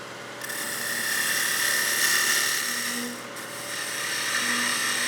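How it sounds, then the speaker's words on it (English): Wood lathe spinning a German smoker figure while the tip of a skew chisel peels away wood fibers, producing a steady loud rasping hiss that swells and dips slightly, with no talking. "Using just the tip of that skew just to peel these fibers away to get down to the dimension that I need"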